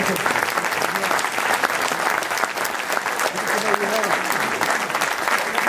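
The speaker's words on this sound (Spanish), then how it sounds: "Un fuerte aplauso" Loud, sustained applause from an audience at a musical tribute evening, steady clapping throughout with crowd noise and no pauses.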